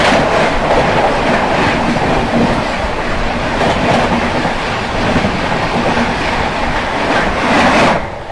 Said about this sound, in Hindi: सामने से आ रही है न्यू दिल्ली हावड़ा राजधानी एक्सप्रेस।